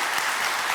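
A studio audience on a lottery game show gives a short, dense burst of applause, steady and close.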